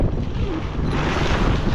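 Strong, steady wind buffets the microphone at Everest base camp, a loud continuous roar with gusty low rumble and no pauses.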